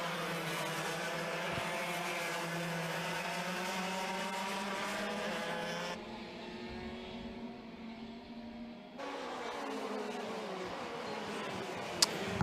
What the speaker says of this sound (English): Steady pace at the moment from the TKM Clubman drivers as the number 88 of Harple Baines